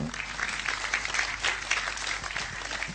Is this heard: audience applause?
yes